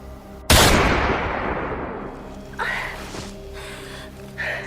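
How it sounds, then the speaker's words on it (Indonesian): In an action film scene, a single loud, sharp gunshot cracks close by and its echo decays over the next second or two, followed by a few softer thuds and breathy sounds. "Setelah itu, Marina yang terkena luka tembak pun tumbang"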